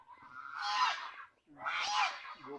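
A free-ranging chicken kept by a family in rural Bicol calls out twice in loud, rasping squawks, each about a second long, separated by a brief pause.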